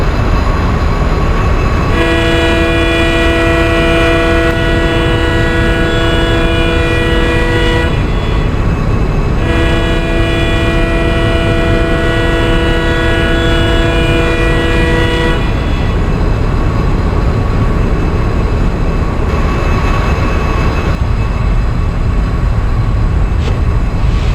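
An Indian express train, the 16335 Nagercoil Express, roars loudly along the track, with two long horn blasts sounding over the constant heavy rumble of the rails.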